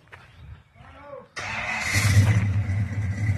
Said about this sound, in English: Hey, Scott, fire it up again.